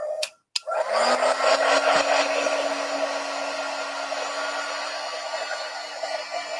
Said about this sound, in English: this is our quick dry tool. It has a little bit of heat